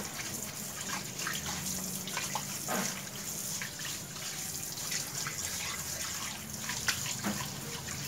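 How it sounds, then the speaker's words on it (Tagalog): Tap water runs steadily into a sink while cats' food bowls are washed beneath it, with a continuous splashing rush and occasional louder clinks and splashes, alone without talk. "Hugasan muna natin yung kakainan nila para magiging malinis."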